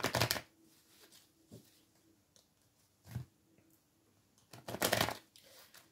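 Tarot cards being shuffled in a quiet room, heard as short riffling bursts: a strong one at the start, smaller flicks in the middle and a longer loud riffle near the end, with no talk.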